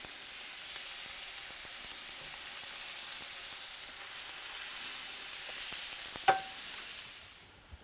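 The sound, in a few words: chuck steaks searing in a hot oiled pan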